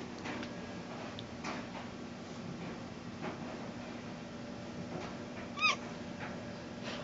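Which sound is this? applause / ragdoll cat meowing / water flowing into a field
ragdoll cat meowing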